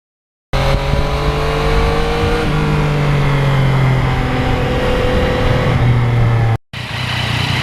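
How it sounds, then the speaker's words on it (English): A Yamaha MT-09 motorcycle engine pulls steadily while being ridden on salty late-winter roads, a loud continuous drone with shifting pitch that cuts out briefly near the end and then picks up again. "the biggest feature of the MT-09 is the engine"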